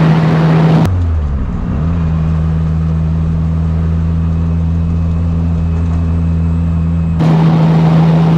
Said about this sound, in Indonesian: Jadi suara dari mobil ini super bising sekali karena kita udah gunakan knalpot yang racing